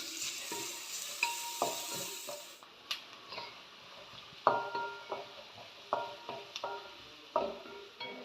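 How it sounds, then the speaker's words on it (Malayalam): Chopped onion frying in ghee with cashews and raisins: a continuous sizzle broken by a regular series of sharp spatula scrapes and stirring strokes against the pan, close by and without speech. "ഇതിലേക്ക് ഞാൻ അരിഞ്ഞു വെച്ചിരിക്കുന്ന സവാള ഇട്ട് കൊടുക്കാം."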